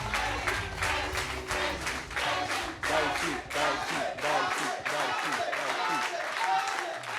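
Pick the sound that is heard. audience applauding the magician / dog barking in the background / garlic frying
audience applauding the magician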